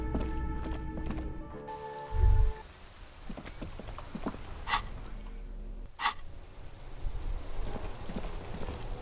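Steady rain falls in a Disco Elysium scene, a continuous soft patter under a music-like tonal bed at first, with a brief low thump and a couple of sharp bright bursts along the way.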